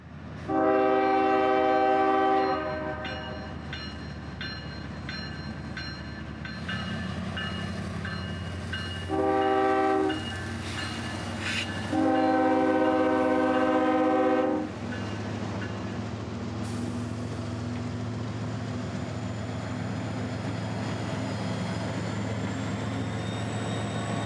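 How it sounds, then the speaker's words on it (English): Freight train heading south from Florence toward Waycross, rumbling past with several long horn blasts in a repeating pattern, followed by a steady rolling drone of wagons, moderately loud, no talk. "This train would be a massive one, coming south from Florence with lots of freight for Waycross."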